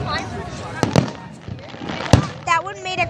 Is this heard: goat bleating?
no